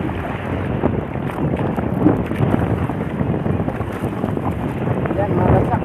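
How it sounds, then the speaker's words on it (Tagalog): Steady wind roars across the microphone at sea during a handline fishing trip as a small boat is paddled, a constant loud rush without pauses or voices. "Mahirap magsagwan. Mahangin na."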